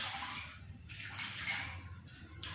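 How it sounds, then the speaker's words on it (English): An orange being washed under running water, a steady close hiss of flowing water with faint sloshing shifts as the fruit is turned, with no voices. "So I'm going to wash it so that we can cut the orange."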